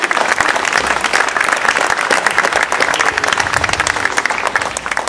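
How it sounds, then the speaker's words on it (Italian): An audience applauds with dense, sustained clapping at a music celebration event, a steady loud wash of many hands lasting several seconds. "Un applauso."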